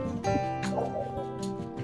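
Dog barking and yipping outdoors during an evening walk in New Orleans; a few quick, close barks with whimpering tones over a short stretch.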